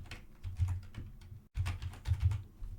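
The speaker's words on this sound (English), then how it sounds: "Now here you enter the site name, so let's type in," Bursts of quick key taps on a computer keyboard, close and fairly quiet, in two clusters separated by a brief pause, with no talking.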